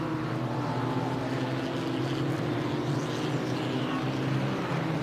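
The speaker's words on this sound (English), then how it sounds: "The Gran Turismo certainly sounds good as well. Always a note with Maseratis. They always have great sounding engines" A Maserati GranTurismo GT4 race car engine at Zandvoort during a GT4 European Series race, a steady loud droning roar sustained throughout, with other race cars blended into the continuous engine noise.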